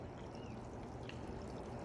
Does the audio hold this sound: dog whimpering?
no